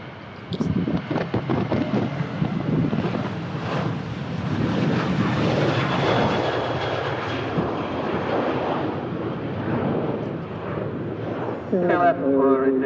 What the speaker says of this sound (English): KLM SkyTeam Special on the way back to Amsterdam.